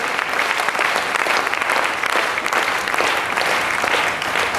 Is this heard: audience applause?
yes